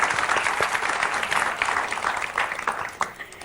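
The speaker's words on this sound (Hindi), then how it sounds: "अभी एक बार जोरदार तालियां वापस से।" A studio audience at a comedy interview show bursts into loud, dense applause that rolls on steadily for a few seconds before thinning out.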